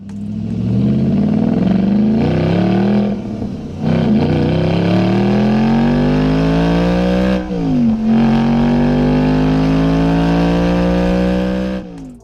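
An Audi RS4 sedan engine revs loudly and steadily up close, its pitch climbing through long pulls with brief dips between shifts, no voices over it.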